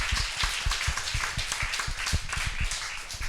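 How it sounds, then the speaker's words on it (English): Warm audience applause after a climate change talk at an evening event, dense steady clapping from many hands filling the room without letup. "give a very warm applause for Foundation We Are for hosting this"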